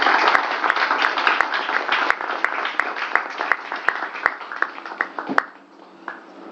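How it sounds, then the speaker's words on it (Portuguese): Audience applause at a film fund award ceremony, a sustained crowd clapping with crisp individual claps near the microphone, thinning out and dropping away over the final second. "uma salva de palmas para ele"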